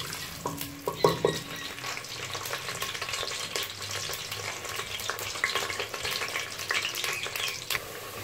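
Potatoes frying in hot oil for desi-style aloo gosht give a dense, continuous crackling sizzle, with stirring clatter and a brief clank of utensils near the start.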